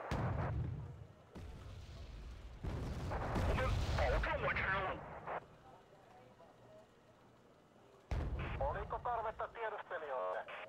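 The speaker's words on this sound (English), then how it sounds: "Just fire salvo in there because we can." Artillery salvo firing in a 1980s ANZAC video game, with heavy booming blasts in bursts between stretches of radio-style voice chat.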